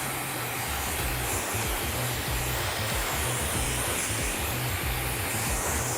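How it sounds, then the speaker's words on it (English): A handheld hair dryer blows steadily and loudly at close range while drying rough, textured hair, a constant airy roar with a low motor hum that shifts slightly as it is moved around the head. "Now I'm going to go through and dry this in."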